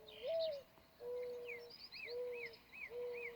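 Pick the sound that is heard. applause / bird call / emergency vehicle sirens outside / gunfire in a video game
bird call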